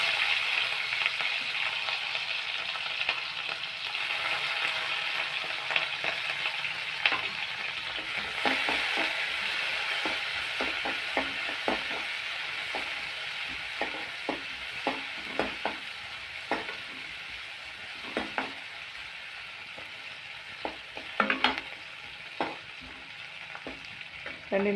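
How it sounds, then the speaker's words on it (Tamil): Mustard seeds popping and onions frying in hot oil for a bottle gourd kolumbu, a continuous close sizzle broken by frequent sharp crackles and spatters, with occasional stirring sounds. "கடுகு பொரியுதுங்க. வெங்காயத்தை போட்டுக்கலாங்க."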